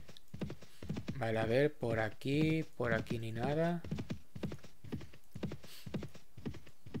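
Horse hooves clip-clopping at a slowed nighttime pace in the video game Mount and Blade, a faint steady rhythmic patter running beneath someone talking in Spanish throughout.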